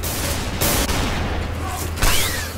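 Scattered gunfire in the online shooter Special Force 2: a few sharp shots and bursts, some nearer and some more distant, over steady game noise with a voice speaking now and then.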